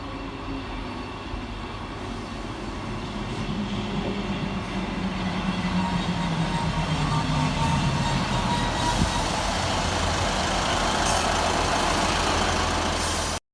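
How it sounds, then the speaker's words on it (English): Scotrail Class 158 diesel unit 158733 on a Leven to Edinburgh Waverley service rolls into Inverkeithing station on the Fife Circle, a steady loud rumble of engine and wheels building and holding throughout, with no talk. "here comes 158733, working the 1800 Scotrail service from Leven through to Edinburgh Waverley"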